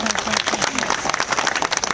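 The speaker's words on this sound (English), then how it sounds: "A round of applause for our helper." Brief burst of audience clapping at a zoo bird show, rising under a presenter's voice that carries on talking over it.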